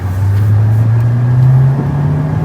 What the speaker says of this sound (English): right now I'm gonna put it in sport mode just to kind of punch it a little bit here